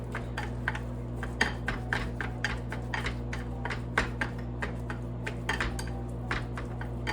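Guacamole seasoning is mixed into three mashed avocados, a rapid run of light clicks and taps from a utensil against a bowl over a steady low hum, close and even throughout.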